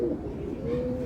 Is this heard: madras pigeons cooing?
yes